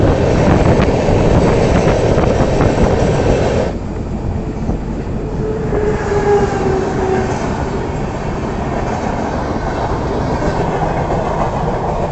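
The Andhra Pradesh Express pulls out of a station, heavy rumble and clickety-clack at first, then settling into a lighter rolling drone with faint wheel squeals.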